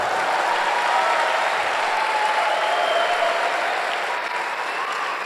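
Steady applause from a church congregation during a Sunday service, a dense, even wash of clapping that holds at constant loudness throughout with no voices on top.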